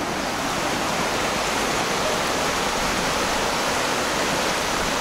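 A river near Chamonix rushes in a steady, dense roar of flowing water, close and continuous without pauses.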